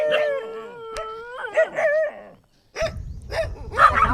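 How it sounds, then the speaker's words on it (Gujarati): Dogs howl in long wavering cries, one rising and falling, followed by shorter yelps and a couple of overlapping howls nearby, with a brief silent gap. "કૂતરા"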